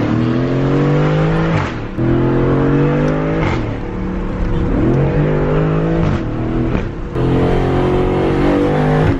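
Aston Martin sports car engine revving hard as it accelerates through gears, a loud close roar that climbs in pitch, drops briefly at each shift, then climbs again, repeating several times.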